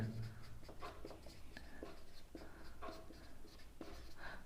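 A pen scratches across paper while the quadratic formula is written out for a Class 10 maths problem: soft, close, irregular strokes and taps that continue steadily throughout with a low room hum underneath.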